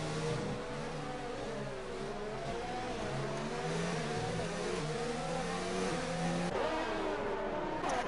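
F1 race cars in a video game league race at the Singapore Grand Prix, several engines droning and revving together in a steady, continuous whine with rising and falling pitch, nose to tail, no voices.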